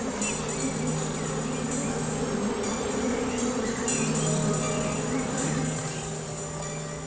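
A honey bee colony at its hive in a city, buzzing loudly and continuously with a layered steady drone and brief rising swells, close and with no talk, for about seven seconds.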